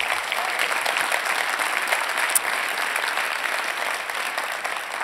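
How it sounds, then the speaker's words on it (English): Conference audience at a B2B sales event applauds Emily Garrison of Salesforce, an even, sustained wash of many hands clapping at moderate distance with no voices. "Please, some applause for Emily."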